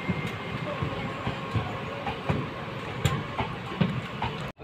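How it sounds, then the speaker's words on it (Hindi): The Mussoorie Express on the Delhi–Dehradun line rolls past with a steady rhythmic clatter of wheels over rail joints, moderately loud and fairly close, ending in an abrupt cut. "मसूरी एक्सप्रेस दिल्ली देहरादून, जो कि दिल्ली से आ रही है देहरादून तक"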